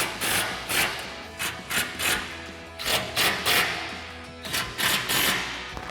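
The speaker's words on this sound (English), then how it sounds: "Now we'll grab our 5mm Allen socket and tighten up our 4 front bolts." A ratchet with a 5mm Allen socket tightens bolts on a Tacoma front bumper, quick bursts of loud rapid clicking repeated in short strokes, close up with no talking.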